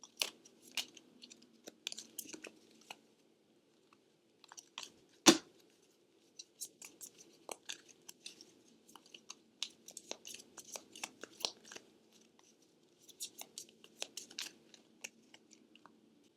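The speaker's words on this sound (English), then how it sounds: "But let me pull an oracle card." Oracle cards are shuffled and pulled from the deck in a quiet room, giving soft papery riffles, rustles and taps in scattered bursts, with one sharper snap midway and no voices.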